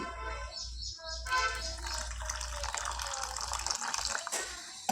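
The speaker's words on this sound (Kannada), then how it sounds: "ಈನೋನ ಹಾಕ್ಕೊಂಡು ಸ್ವಲ್ಪ ನೀರು ಹಾಕ್ಕೊತೀನಿ" Water is poured into rava dosa batter mixed with Eno, making a quiet, steady gush and trickle that runs for several seconds.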